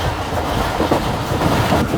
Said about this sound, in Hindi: ये आ रही है सामने से मीरपुर खास और कराची के दरमियान चलने वाली 152 डाउन शाह लतीफ़ एक्सप्रेस